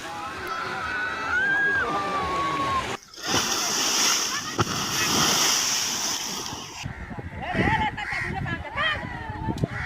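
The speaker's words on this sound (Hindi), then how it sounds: "भागलपुर के नवगछिया में देखते ही देखते एक मकान नदी में समा गया।" Fast-flowing Kosi river floodwater in Naugachia, Bhagalpur, eroding the bank as a house collapses, heard as a loud continuous rush and splashing with a heavy surge midway, and voices talking over the roar.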